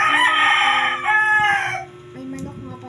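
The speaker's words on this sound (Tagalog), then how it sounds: "May manok nga pala sa labas." Rooster crowing outside, a single loud drawn-out cock-a-doodle-doo that tails off, followed by a few softer clucks and faint background sounds.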